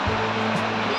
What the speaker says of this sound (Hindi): यहाँ से पानी गिर रहा है